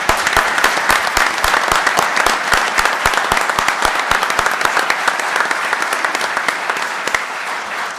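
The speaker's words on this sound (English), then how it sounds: "I'd appreciate a round of applause for his efforts." Dense, steady audience applause fills a meeting of the National Petroleum Council, a continuous round of many hands clapping that tapers slightly at the end.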